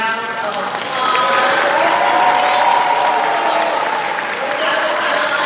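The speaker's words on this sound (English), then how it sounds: "Let's give them all a round of applause" Loud, close audience applause at a dental school white coat ceremony, continuous clapping swelling after the first second with cheers and whoops mixed in.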